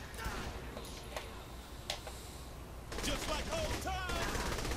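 Minigun fire in the Saints Row 3 video game comes as continuous rapid rattling bursts under game noise and overlapping voices, growing denser and louder in the second half.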